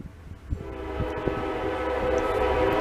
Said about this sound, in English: ever notice the train goes through right when I'm recording?